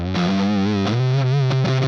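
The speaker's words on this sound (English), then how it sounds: "when you play with the neck pickup, you listen this sound, so really saturated sound, but a lot of, it's muddy" Heavily saturated, muddy electric guitar tone from the neck pickup through a Quad Cortex modeler: a short sustained distorted chord phrase with a couple of note changes, thick and dense.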